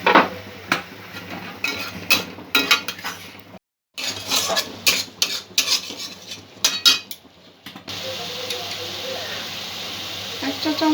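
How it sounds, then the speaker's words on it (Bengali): Onions and green chillies frying over low to medium heat in a pan, with a spoon scraping and clinking against the metal in quick irregular strokes over a steady sizzle, while a voice talks intermittently. "পেঁয়াজটা ভাজতে ভাজতে কয়েকটা কাঁচা লঙ্কা দিয়ে দেব"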